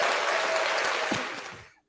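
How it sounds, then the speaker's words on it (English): A small audience clapping for someone being introduced at an investing talk: a steady, fairly close wash of hands that tapers off and stops abruptly under two seconds in. "Y'all give him a hand clap."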